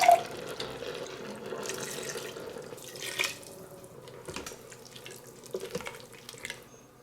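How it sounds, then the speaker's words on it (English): Water pours into a pot of keto no-bean chili with diced and blended tomatoes, a steady splashing trickle lasting several seconds with small gurgles and drips. "Now we can add in our water."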